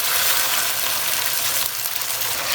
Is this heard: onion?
yes